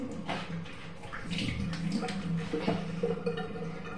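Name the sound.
tap water running for face washing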